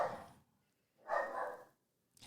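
A dog in a house barking at someone walking past outside, two loud muffled barks about a second apart followed by the start of a third, close to the mic with no talk.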